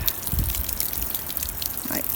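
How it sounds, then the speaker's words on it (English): Peonies in a fall garden watered from a watering can, a close gushing and splashing of water onto soil with a faint trickle throughout. "now I'm going to give my peonies a nice drink of water"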